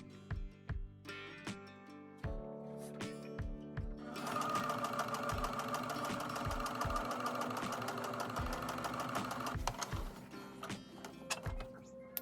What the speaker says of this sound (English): I sewed the pocket down at the side, then folded the top over it before sewing the entire pocket down